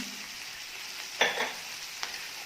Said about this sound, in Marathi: आता भेंडी फोडणीला टाकल्यानंतर लगेच खोबरं घालून घ्यायचं आहे ओलं खोबरं घेतलेलं आहे